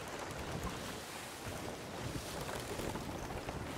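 A sailing ship at sea in the video game Sea of Thieves, with a soft continuous wash of waves and wind around the hull, faint and steady throughout without voices.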